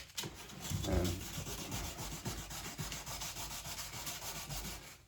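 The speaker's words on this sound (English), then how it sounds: "make sure your sandpaper is nice and wet" Steady wet sanding of a goalie mask with wet sandpaper, a continuous rasping rub by hand up close, with slight rhythmic strokes and no talking.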